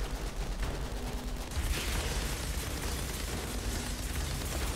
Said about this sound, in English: That gun is so loud.